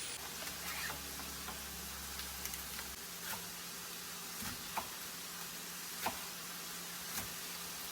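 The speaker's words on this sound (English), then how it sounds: "I'm waiting for it to come back up to a boil" Rice in bouillon water boiling in a pot on a stove gives a steady close hiss of bubbling, broken by a few faint ticks and knocks.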